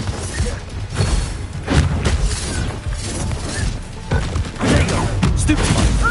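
Dense booming blasts and crashing debris from the Confringo explosion spell in a Harry Potter video game, loud and continuous with repeated heavy thumps throughout.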